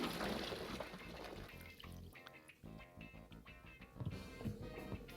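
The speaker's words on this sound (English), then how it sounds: "go ahead and pour it in there" Liquid splashes and gurgles steadily as it is poured into an empty fermentation container for home brewing, a continuous close pour with shifting burbles lasting several seconds.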